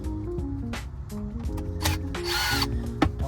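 A power drill backs two screws out of the shifter console under the armrest of a JZS147 Lexus GS300, in a few short bursts of whirring up close, with a longer run near the end and clicks between them.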